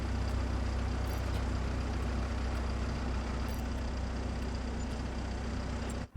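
An old diesel tractor engine in Farming Simulator 25 runs in a steady, droning rumble that holds at constant loudness, then cuts off abruptly at the end.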